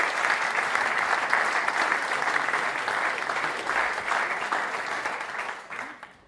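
Audience applause at an evening book festival event in Chiswick, a loud, sustained crowd clapping that stays dense for several seconds before tapering off near the end.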